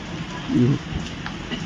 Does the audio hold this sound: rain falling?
yes